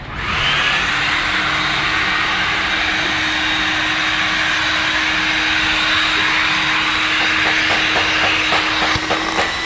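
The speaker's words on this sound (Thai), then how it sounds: "หลังจากนี้เราลองจะใช้เครื่องดูดลงมานะครับ" A vacuum cleaner runs steadily and loudly on a velvet fabric car seat, with a constant motor whine and broadband suction roar throughout and some faint knocks near the end.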